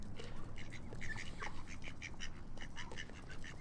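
A soft-feathered duck being handled and stroked by hand gives a steady string of close, quiet quacks and chattering calls over low background rumble.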